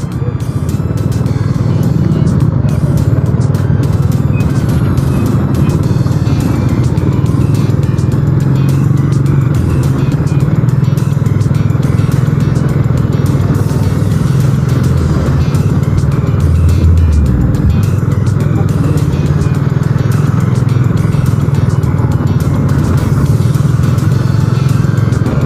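Dense road traffic in Davao City, with cars and motorcycles droning and revving nearby, a continuous loud wash of engine noise and passing vehicles with someone talking briefly over it.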